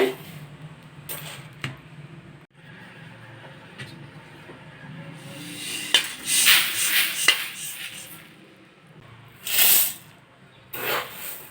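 Roasted coriander seeds are poured out of a pan, giving intermittent bursts of dry rattling hiss that swell and fade several times over quiet kitchen background.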